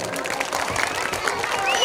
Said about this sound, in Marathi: तर सर्वांसाठी जोरदार टाळ्या होऊन जाऊ द्या